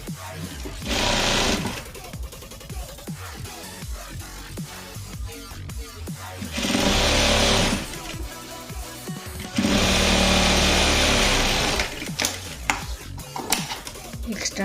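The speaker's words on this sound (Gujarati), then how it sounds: "પલટાવીને કિનારીએ સિલાઈ આપણે મારી લઈશું." Sewing machine stitching along a blouse edge, running in three loud bursts of steady whirring separated by quieter handling sounds, with no one talking.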